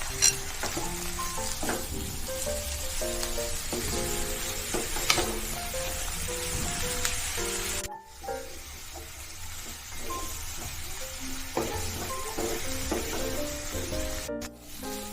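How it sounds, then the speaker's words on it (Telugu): Chopped fenugreek leaves (methi) frying with onions in a pan make a steady sizzle with stirring scrapes, continuous apart from a brief gap partway through, with no talking. "ఇప్పుడు దీంట్లో మనం ఆల్రెడీ తరిగి పెట్టుకున్న మెంతికూర వేసుకుని పచ్చివాసన పోయే వరకు ఫ్రై చేసుకోవాలి"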